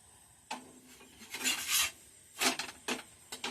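Stuffed potato paratha dough is worked with a rolling pin, giving a few rasping scrapes and soft wooden knocks against the board, close and otherwise quiet with no talk.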